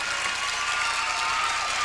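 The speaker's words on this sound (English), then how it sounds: "Standing applause from a lot of the fans in the stands." Fans standing in the stands at a girls' gymnastics state final applaud, giving a dense, steady wash of clapping that holds at the same level throughout, heard from within the arena.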